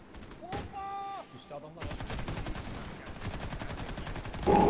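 Heavy weapon fire in the shooter game Warface, rapid sustained bursts of loud gunfire crackling continuously after a brief pause, with a voice talking in the background.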